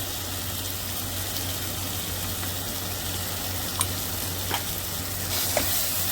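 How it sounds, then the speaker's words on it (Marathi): Kolhapur-style mutton mundi masala with ground paste and turmeric sautéing in a pan, a steady low sizzle with a constant hum underneath and a few soft utensil scrapes and clinks near the end. "आता हा व्यवस्थित परतून घेणार मी"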